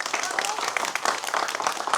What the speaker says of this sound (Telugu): సో తమ్మునికి అందరు అయితే ఒక స్పెషల్ అప్లాజ్